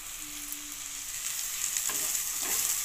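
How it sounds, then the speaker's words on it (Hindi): Grated beetroot frying in a pan for vegetable paratha, a steady soft sizzle with faint stirring scrapes near the end. "ये मेरा कद्दूकस किया हुआ बीट है, इसको मैं इसमें डाल के थोड़ा सा भून लूँगी"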